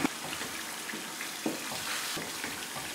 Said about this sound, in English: Allow to fry.